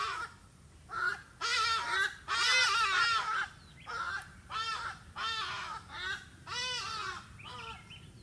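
Several crows caw outdoors in a rapid series of loud, harsh calls, some overlapping, repeated in bursts with brief pauses between them.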